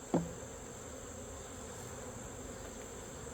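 A constant low hum of honey bees buzzing nearby at a mason jar feeder during a hive inspection, steady throughout after a brief faint bump at the start.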